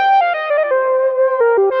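A synthetic synthesizer patch on a Yamaha Montage: a bright, buzzy lead line stepping through gliding notes, loud and close, with an effects-laden, slightly distorted tone and a few quick articulated notes near the end.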